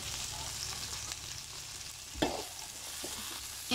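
Curry leaves sizzle in hot oil for a cabbage poriyal, a steady crackling fry with a sharp pop or spatter near the middle and a few smaller bursts afterward, close and moderately loud with no talking.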